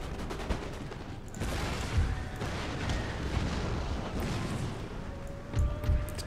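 Musket volleys from an Empire Total War battle, a crackling, rolling fusillade at middle distance with occasional deeper booms, under steady battlefield noise.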